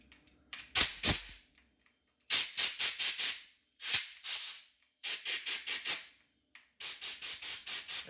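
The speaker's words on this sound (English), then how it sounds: "you're going to come back with your high pressure compressed air" Compressed air blasts through a Troy-Bilt pressure washer with a Briggs and Stratton engine, coming in short hissing bursts with pauses between them, several rapid puffs per group, close and loud with no talking.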